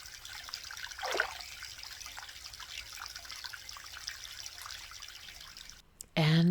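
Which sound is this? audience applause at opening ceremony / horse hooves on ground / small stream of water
small stream of water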